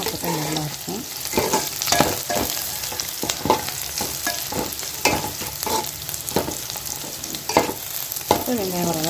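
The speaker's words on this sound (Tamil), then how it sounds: "வெங்காயம் நல்லா வதங்கட்டும். வெங்காயம் நல்லா வதங்கணும், அப்போ தான் நல்லாயிருக்கும்." Onions sautéing in a pan for fish curry, sizzling and frying with repeated scraping stirs of a spoon against the pan, close and continuous.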